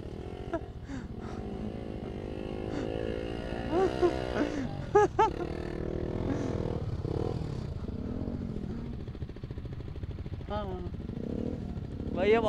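A Bajaj Dominar motorcycle churns along a rough, dangerous off-road trail, its engine droning steadily with rising revs and clatter as it pushes through, while voices talk and shout over it throughout.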